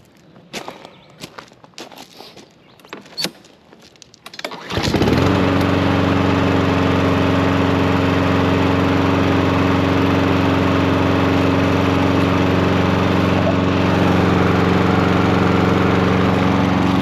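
A Honda small engine that only runs on choke, fuelled with fresh stabilised gas: a few handling clicks and knocks, then the engine starts and runs loud and steady close by.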